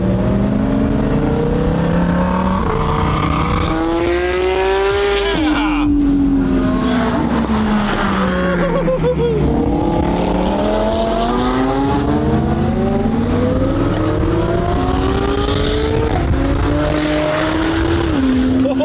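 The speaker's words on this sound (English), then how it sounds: "They're shooting bangs and pops" A car engine revving hard with exhaust bangs and pops, sweeping up and down in pitch continuously and loudly, with people talking over it.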